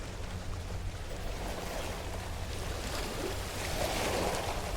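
Steady ocean surf washes and rumbles in a dense, unbroken roar across a watery planet in No Man's Sky, with no voices over it.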